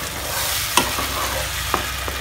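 A spoon stirring tomato sauce with fried onion and garlic in a pan, a steady sizzle with a few sharp clinks of the spoon against the pan, close and loud with no talking.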